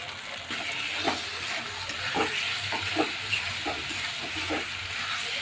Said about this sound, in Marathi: हे सर्व मसाले घालून परतून घेतलं